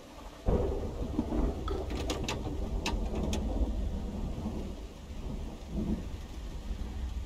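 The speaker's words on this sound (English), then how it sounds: "it's dark, and it's pissing down with rain" A thunderstorm in Project Zomboid at night: steady heavy rain with low rumbling thunder and a few sharp crackles, continuous and fairly loud with no voices.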